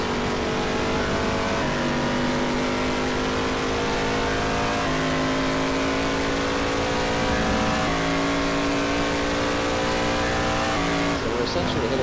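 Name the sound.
race car engine revving near 9,000 RPM, NASCAR Racing 2003 video game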